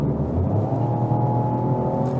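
A 2020 Opel Corsa GS Line with a 1.2 turbo engine accelerates along a winding road, its engine giving a steady, continuous drone heard from inside the car, with no talking.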